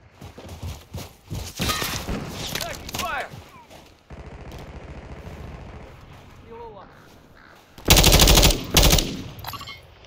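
Gunfire in Call of Duty Modern Warfare 3 Team Deathmatch on the Derail map, scattered shots early and a loud automatic burst near the end, with voices calling out amid the combat.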